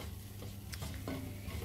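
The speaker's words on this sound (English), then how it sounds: "so we've just combined that, the flour with the butter and oil, just a little bit more flour." A spoon or whisk stirs flour into melted butter and oil in a pan on the stove, giving soft, steady scraping and low sizzling close by, with no talking.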